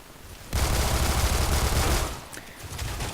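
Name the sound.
gunfire in the video game Phantom Forces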